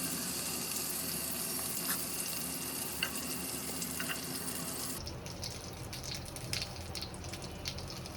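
Pieces of elephant foot yam fry in oil with a steady, dense sizzle that holds evenly for several seconds, then shifts to a rougher, crackling texture with scattered pops, close and unbroken, with no voices.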